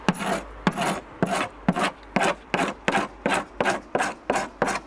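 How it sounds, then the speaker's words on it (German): Rhythmic hand scraping of old paint off wood, about a dozen rasping strokes in a steady back-and-forth rhythm, close and fairly loud with short pauses between them. "Einfach alles hier von Hand wegkratzen"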